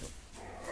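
A dog gives a short, muffled bark or yip at dogs being walked by, brief and slightly distant with no talking.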